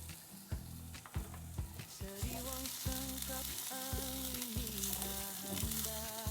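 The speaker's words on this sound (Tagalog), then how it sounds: "So, ilalagay na natin yung bawang sibuyas. Sabay na natin yan." Garlic and onion fry in a hot pan, giving a steady, close sizzle broken by repeated stirring scrapes and knocks of the utensil against the pan.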